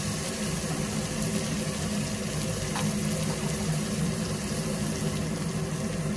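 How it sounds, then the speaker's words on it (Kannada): Ginger garlic paste fries in an oiled pan with a steady, dense sizzle that holds at an even level throughout, with no voice over it. "ಶುಂಠಿ ಬೆಳ್ಳುಳ್ಳಿ ಪೇಸ್ಟಿಂದ 30 ಸೆಕೆಂಡ್ ಆಗೋಷ್ಟು ತನಕ ಫ್ರೈ ಆಗಲಿ"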